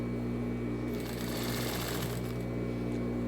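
A sewing machine stitches a dart on a tailored women's vest, running in a steady, fast, loud mechanical whir with a brief backstitch, alone without talk.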